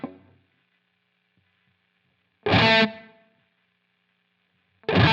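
Dry electric guitar through a Line 6 Helix with the Cosmos delay mix set to zero: three short, distorted chord strums separated by silence, each cut off cleanly with no echo tail.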